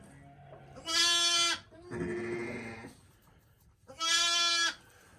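Newborn lambs bleating in dry straw bedding out of the wind, two loud, close, quavering bleats separated by a softer rustling, nasal cry in between.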